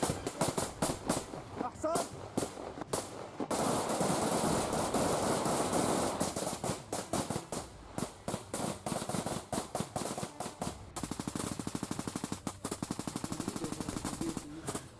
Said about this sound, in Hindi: लेबनान बॉर्डर पर हिजबुल्लाह और इजराइल की सेना के बीच कैसे फायरिंग हो रही है